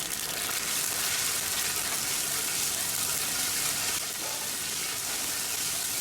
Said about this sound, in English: It is just little saute so that the flavor is infused in the oil.